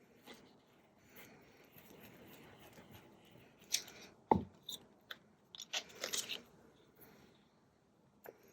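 A few close, crisp snips of scissors cutting paper come in a brief cluster after a quiet stretch of faint background noise.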